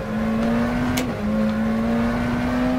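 McLaren Senna GTR race car engine in rFactor 2 at the Nürburgring, a steady loud high-revving drone holding a near-constant pitch, with a brief dip and recovery midway, no talk.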